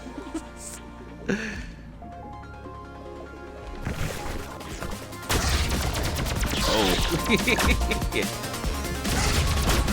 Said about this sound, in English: Those are very big bombs.